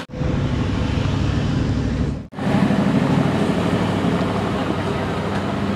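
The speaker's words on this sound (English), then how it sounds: "my buddy Rob in the Manzuri Aventador" A Mansory-modified Lamborghini Aventador arrives with a loud, steady engine roar close by, briefly cut off, then a rumbling surge that carries on under a short spoken word.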